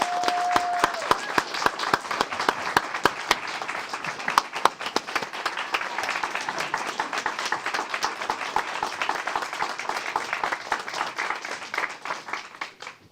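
An audience at a city council meeting breaks into sustained applause, dense rapid clapping from many hands in a room that carries on evenly and begins to thin out toward the end.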